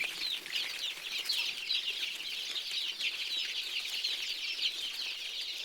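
Country chickens cluck and chirp continuously while being fed potato leaves, a soft, busy chatter of several birds at moderate distance with no talk.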